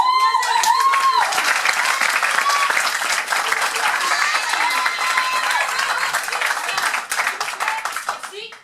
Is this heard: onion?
no